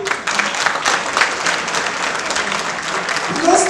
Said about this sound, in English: Now like that, now the clap.